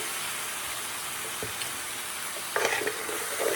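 Homemade fresh tomato sauce goes into a simmering pan, with a constant bubbling hiss that swells into a louder, wetter sizzle and splatter near the end.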